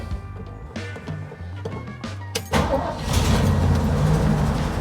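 A 1969 Ford Bronco cranks with a few uneven starter bursts, then its engine catches and settles into a loud, steady rumble close by.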